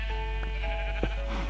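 Sheep in the video game Minecraft bleat a few times at moderate volume over a steady game background hum, with no talking.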